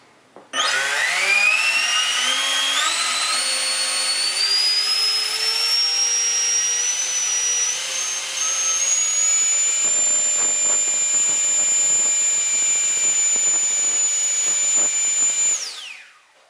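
A Sun 12-bladed 900kv motor runs up on a 12S battery, a loud, steady high-pitched electric whine that climbs sharply in pitch over the first seconds, holds near full speed, then cuts off abruptly at the end.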